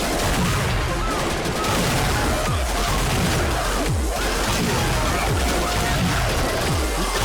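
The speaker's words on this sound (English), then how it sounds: "Explosive bullets or something?" Rapid bursts of video game gunfire firing explosive bullets, with dense repeated shots and crashing impacts running continuously and loud throughout.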